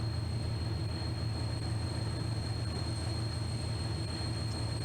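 A train in the Polish Roads driving game idles ready to depart, giving a steady, even mechanical drone with faint high whines and no change in level across the few seconds.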